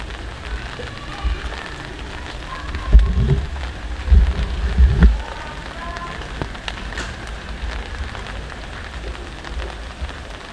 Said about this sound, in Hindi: बारिश हो रही है इसीलिए ज़्यादा व्लॉग नहीं कर पा रहा हूँ